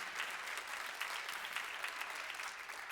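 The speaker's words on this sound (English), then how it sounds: "Clap it up for Breath in Poetry." Audience applause at a spoken word poetry slam, steady clapping from a crowd filling the room at an even level, continuing for several seconds without speech.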